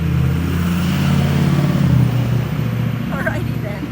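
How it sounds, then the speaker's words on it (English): A truck passes outside a stained glass studio, its low engine rumble loud and steady throughout, swelling near the middle and easing slightly toward the end, with a speaking voice underneath. "A truck is going by, so it's loud."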